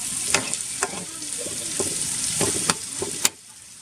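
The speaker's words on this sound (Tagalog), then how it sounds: "igisa po natin ito lakay ng maigi para po lumabas yung kanyang" Pork sautéing in a pan for binagoongang baboy, a steady sizzle broken by repeated scraping stirs and clanks of a utensil against the pan, close and fairly loud.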